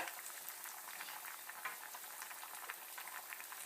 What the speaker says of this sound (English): as you can hear, the rice is now starting to bubble